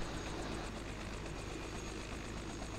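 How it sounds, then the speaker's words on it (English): A helicopter in Microsoft Flight Simulator 2020 comes in to land, a steady broadband engine and rotor roar with a faint rapid blade chop, at moderate level with no talking. "we have landed the chopper"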